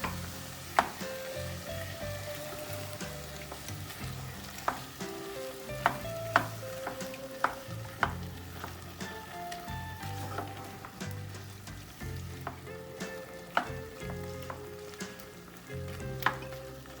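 Goulash with a splash of wine stirred in a pot, steady low sizzling with a spoon scraping and clinking against the metal at irregular intervals, close and moderately loud.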